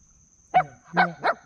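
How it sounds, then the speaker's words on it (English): Three sharp puppy barks, loud and close, the first alone and the last two quickly following each other, with a faint steady hum behind. "You're a loud puppy."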